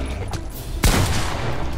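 A single sharp gunshot in the GTFO video game rings out partway through, loud and close, followed by a ringing tail and low background noise.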